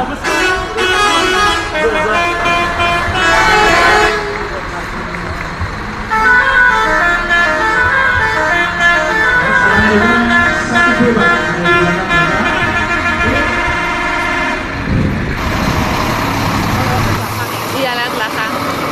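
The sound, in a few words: telolet horns of Scania buses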